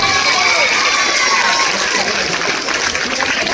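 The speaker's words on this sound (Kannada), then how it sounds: "ಹಾಡು ಡ್ಯಾನ್ಸ ಜೋರಾದ ಚಪ್ಪಾಳೆ ಬರಲಿ ಮೊದಲು" Loud, dense crowd noise from an audience cheering and clapping at a stage show honouring Puneeth Rajkumar, a continuous roar of shouts and applause filling the whole moment.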